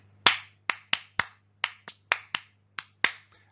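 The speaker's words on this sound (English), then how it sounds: "Or you can do something simple like a clap." A single person's hand claps used as an attention signal for young learners in a classroom: about ten sharp, close claps in an irregular rhythm, standing alone over a faint steady hum.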